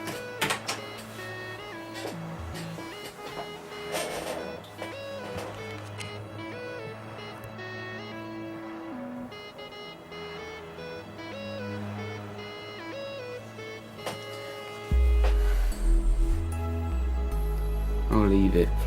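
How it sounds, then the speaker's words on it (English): Mechanical whirring and grinding come from inside a Packard Bell Pulsar C333 desktop computer, steady and busy throughout, then a sudden louder low rumbling stretch near the end. "There's a strange grinding noise coming from in there."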